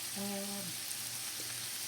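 Steady crackling sizzle of cabbage frying in hot bacon grease and butter, close up, with a short tonal hum near the start.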